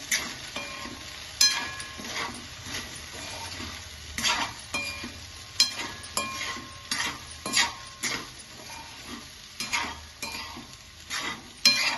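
Okra curry with salt and chili is mixed in a pan, with repeated spoon scrapes and clinks against the metal over a low steady sizzle, close and rhythmic throughout.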